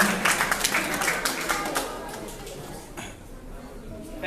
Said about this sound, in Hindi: एक बार उनकी एक जोरदार तालियां होनी चाहिए